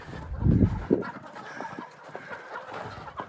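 Several chickens clucking nearby, a few louder low clucks at first followed by softer scattered clucks and rustling.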